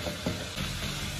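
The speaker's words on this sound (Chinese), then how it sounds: "开始炒，用筷子炒啊，炒成大面絮状" Beaten eggs with chopped ginger stir-fry in a wok, giving a quiet, continuous sizzle with a couple of quick scraping strokes from chopsticks.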